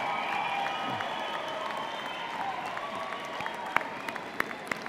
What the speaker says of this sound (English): Wave and cheer, make some noise, show them you're grateful for everything that you've done.